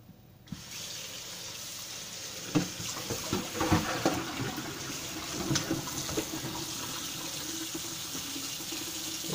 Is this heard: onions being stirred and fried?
no